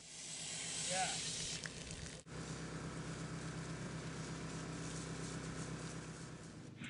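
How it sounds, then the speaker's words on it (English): NovaCool fire protection spray is applied to a house for wildfire protection, a steady, close hiss of pressurized spray, briefly louder near the start, continuing with a faint rhythmic pump-like patter beneath it. "When applying the spray, you will want to cover all surfaces, including skylights, windows,"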